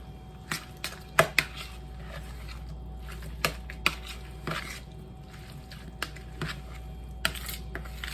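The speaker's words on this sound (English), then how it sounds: "So we're mixing it all up." Greek mayo chicken filling stirred and mixed in a bowl, with scattered light clinks and scrapes of a utensil against the dish, some sharper taps standing out over a low steady hum, no talking.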